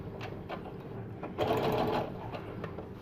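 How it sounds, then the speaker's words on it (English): A sewing machine backstitches a few stitches while paper piecing a quilt block, running in short close bursts with a louder, steadier stretch in the middle. "Back stitch a couple."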